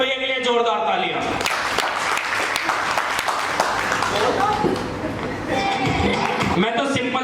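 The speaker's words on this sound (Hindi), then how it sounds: "चलो जनरल गौरव भैया के लिए जोरदार तालियां।" Loud applause from an audience at a business seminar, with people talking and voices present throughout, the clapping swelling in the middle and then easing off.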